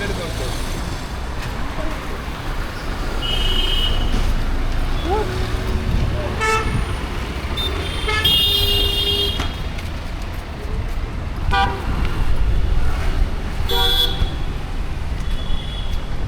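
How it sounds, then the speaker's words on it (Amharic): Car horns honk repeatedly in busy Mumbai street traffic, short toots and longer blasts scattered over a steady roar of engines and road noise, with voices mixed in. "ህንድ ከመጣችሁ ክላክስ ኖርማል ነገር ነው"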